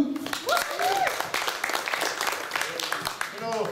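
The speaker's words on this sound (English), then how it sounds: "Round of applause, woo!" Clapping and cheering from a student audience at a lively event, a continuous clatter of hands mixed with whoops and excited voices, loud and close throughout.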